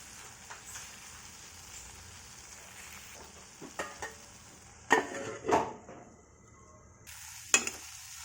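Tomatoes simmering in a pan for a mint chutney, giving a low quiet sizzle broken by a few sharp clinks and scrapes of a spoon against the vessel, with brief silent gaps between them.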